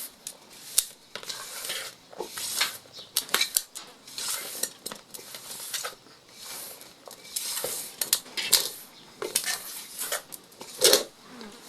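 Donut batter is mixed by hand in a bowl in an African village kitchen, with irregular scraping and clinking of a utensil against the bowl, close and fairly loud, with no talking.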